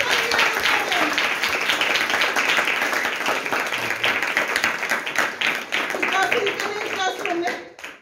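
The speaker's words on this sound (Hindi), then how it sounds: "जोरदार तालियां खुदावंद के लिए।" A church congregation claps enthusiastically at a service in Handu Gujran Church, with dense, loud applause under a speaking voice that fades out toward the end.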